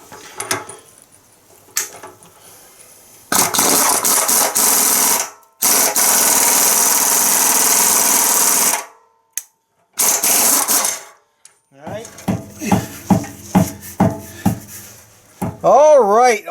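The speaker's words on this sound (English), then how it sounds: "it just gives us another chance to use the Lyle tailpipe expander tool" A Lisle tailpipe expander tool works on the exhaust pipe of a 2011 Chevy Equinox, driven by a loud, close, high-pitched power tool in long bursts with short gaps. Brief revving whirs follow, and someone talks briefly.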